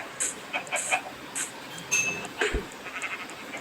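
A goat in the Minecraft video game bleats in several short, bright bursts spaced unevenly across the stretch, fairly close and with no talking.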